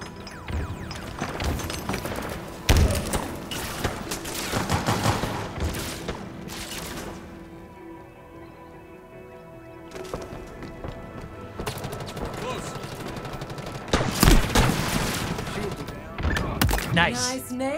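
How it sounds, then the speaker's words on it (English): Gunfire and a grenade blast ring out in a Halo Infinite match, repeated sharp shots and heavy impacts in bursts with a quieter lull midway, game music and voices running beneath. "Nice nade there, Spartan."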